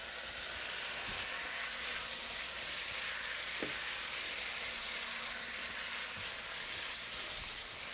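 Pheasant stir-frying in a hot pan gives a steady, close sizzle and hiss throughout, with a few faint scrapes of stirring and no talk.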